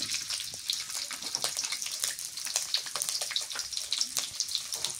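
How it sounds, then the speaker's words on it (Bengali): Mustard greens frying in oil with green chilli and garlic, a steady crackling sizzle with rapid pops throughout, fairly close and moderately loud, no talking. "তেল দিয়ে দিই, সর্ষের শাক ভাজি করি।"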